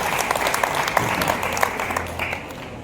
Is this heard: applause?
yes